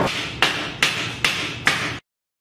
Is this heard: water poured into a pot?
no